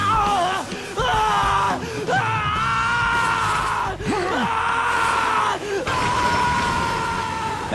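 A voice actor's long anime dubbing scream for Bleach, several sustained strained yells broken by short gasps for breath, loud and close with no other sound.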